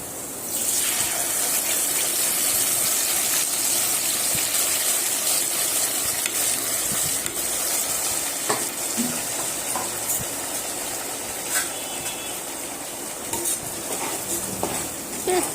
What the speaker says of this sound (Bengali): পেস্টটা ভালো করে কষিয়ে নেব